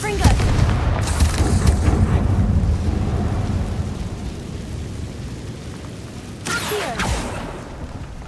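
A Confringo spell blast in Hogwarts Legacy: a loud, rumbling explosive boom that opens the clip and fades slowly into a low roar, with a second sharp crack later on.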